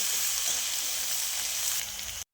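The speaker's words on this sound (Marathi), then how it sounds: "लसूण मिरचीचा ठेचा तेलामध्ये छान असा परतून घ्यायचा आहे" Garlic and green chili paste fries in hot oil with a steady, loud, close sizzle that runs alone without a break, then cuts off abruptly.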